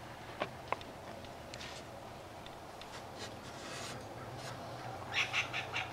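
Birds call in the morning outdoors, a few faint scattered chirps early on and a short run of brighter repeated calls near the end, distant over a quiet background.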